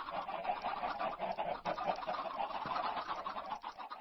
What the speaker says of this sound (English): the chickens all get hatched out here